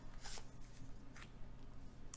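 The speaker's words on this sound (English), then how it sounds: "I'm going to shuffle again and see what comes up." Tarot cards being shuffled by hand, a few short riffling bursts separated by pauses, very faint and close, with no speech.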